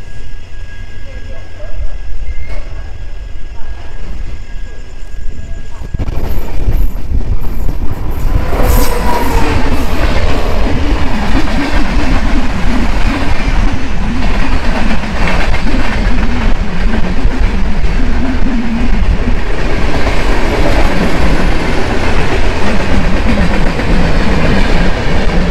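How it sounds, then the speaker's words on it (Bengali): Kanchan Kanya Express pulling out of Malda Town station at night, a loud, steady rumble of wheels and carriages that builds after a few seconds into continuous rolling clatter with faint squeals. "মালদা টাউন থেকে আমাদের ট্রেনটা আবার যাত্রা শুরু করলো"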